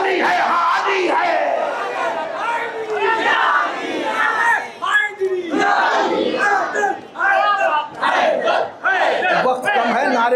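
A crowd at an Urs religious gathering shouts slogans in unison. Loud chanted calls and responses are layered with overlapping voices and come in rhythmic bursts with short pauses.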